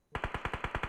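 Rapid automatic gunfire in the mobile battle royale game BGMI, a burst of about nine evenly spaced, loud shots close up after a brief quiet start.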